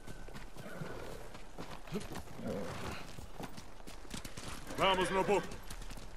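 Horses' hooves clip-clop at a steady walking pace in the game Ghost of Tsushima, joined by a loud whinny near the end, with someone briefly speaking over the hoofbeats.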